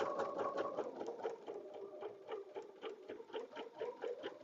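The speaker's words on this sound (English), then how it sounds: "flip it. Stitch from dotted line" Embroidery sewing machine stitching fabric for a paper-pieced coaster and pitcher mat, a steady fast mechanical whirr with a rapid rhythmic needle tick running continuously and close up, with no voices.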